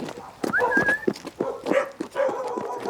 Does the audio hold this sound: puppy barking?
yes